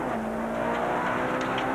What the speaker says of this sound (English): Damso's experiencing a slight loss of power in the engine department, but nevertheless the Conquest keeps a cracking pace.